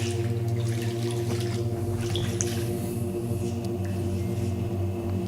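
Water drips and trickles inside a building with small irregular splashes and wet patters. The sounds blend into a constant background wash over a steady low hum, and no one speaks.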